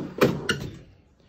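A drawer of a toolbox for a combat robot slides with two quick knocking clacks close by, followed by a brief fading rattle and quiet.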